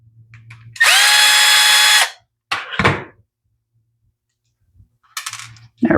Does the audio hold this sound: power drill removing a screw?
yes